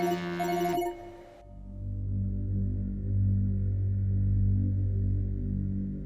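A telephone ringtone trills briefly at the start after a call is placed, then cuts off, leaving a low rumbling background hum for the rest, with no speech.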